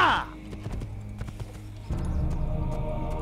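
Horse hooves clop rapidly in Assassin's Creed, with a brief whinny at the start and a louder galloping rhythm building toward the end over game sounds.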